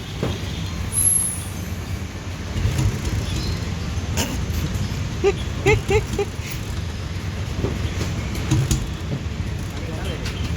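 A faulty two-wheeler being kick-started again and again, its engine refusing to catch. Scattered thumps and short mechanical bursts rise out of steady outdoor rumble, with voices nearby.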